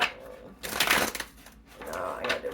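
A deck of cards is shuffled in quick riffling bursts, with two main flurries of crisp papery clatter, close and fairly loud, while a voice talks faintly in the background.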